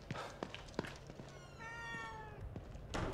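Cat meowing in the horror video game The Evil Within 2, a drawn-out harmonic meow in the middle of the clip over soft game ambience and light footsteps, with another brief cry near the end.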